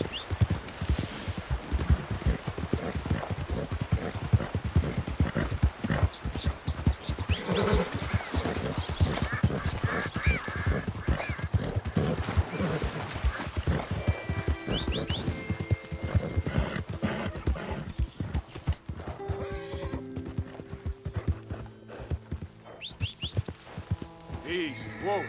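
Horse hooves gallop steadily in Red Dead Redemption 2, a dense run of clip-clop beats with an occasional whinny, carrying on under music and a rider's short spoken urgings.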